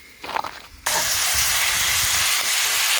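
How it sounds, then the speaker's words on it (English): Minced meat sizzling in a pan while cooking outdoors at a mountain campsite, a steady loud hiss that starts abruptly and runs on continuously, up close, with no talk over it. "Mince is starting to sizzle, that's a good start."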